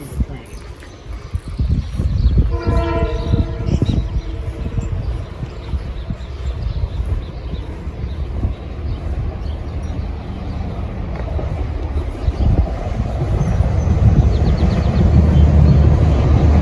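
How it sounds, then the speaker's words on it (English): A very short freight train rumbles past outdoors, a low, rolling roar with a horn-like tonal blast early on, building louder toward the end, while people talk over it. "Just a very short freight train."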